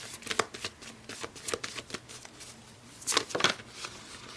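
Tarot cards being shuffled by hand, a run of quick riffling flutters followed by a louder burst of shuffles, close and clear with no talk.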